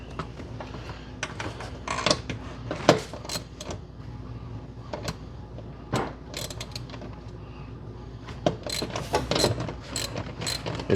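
Wrench working a bolt loose during a vehicle rewiring job, heard as bursts of ratchet clicking with scattered metallic knocks and clanks, close and steady across the stretch with no speech.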